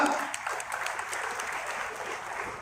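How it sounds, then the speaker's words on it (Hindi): Steady applause from an audience at a company celebration speech in Chandrapur, a dense, even clapping that fills the short stretch without any speech over it. "इनके लिए भी मैं जोरदार तालियां चाहूंगा"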